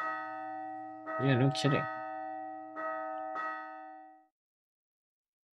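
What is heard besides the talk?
town bell ringing in the video game Lost Sphear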